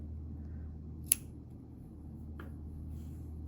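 Scissors snipping a yarn tail, a single sharp click against quiet room hum, followed by a fainter softer snip a moment later.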